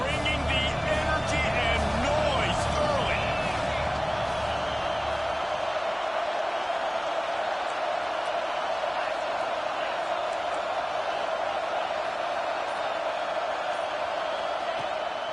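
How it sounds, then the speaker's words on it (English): Football stadium crowd at a Tech vs Oregon game, a steady loud roar of many voices filling the stands, with a commentator talking over it in the first few seconds before the crowd noise continues alone. "This crowd bringing the energy and noise early."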